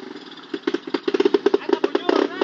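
A trail motorcycle engine revs in a rapid string of throttle bursts during an off-road trail ride, loud and close, with people talking over it.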